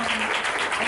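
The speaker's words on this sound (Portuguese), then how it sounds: "eu quero pedir palmas para o Vinícius e para todos os participantes desse filme" A brief burst of audience applause for film participants, a dense wash of clapping that fills the whole short moment.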